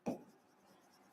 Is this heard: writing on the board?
yes